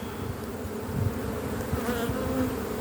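An open hive of honeybees in spring gives off a steady, close, dense buzz, with individual bees droning past now and then and no talk.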